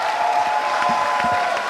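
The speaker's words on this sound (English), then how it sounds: "Round of applause for Demonstration School for the Deaf." Audience applause with some crowd noise at a season finale event, continuous clapping over a steady hum with a few low bumps.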